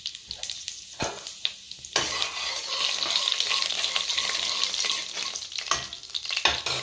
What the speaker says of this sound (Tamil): இதுக்கப்புறம் சீரகம் கொஞ்சம் போட்டுக்கிடலாம்.